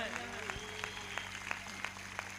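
Congregation at a church service clapping steadily in a sustained round of applause, with a voice and droning tones running underneath throughout.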